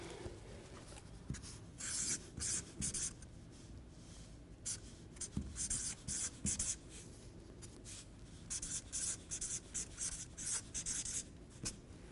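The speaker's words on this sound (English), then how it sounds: "I'll write that down." Pen or pencil scratches across paper in short, intermittent bursts of quiet writing strokes, close and faint, separated by brief pauses with no talking.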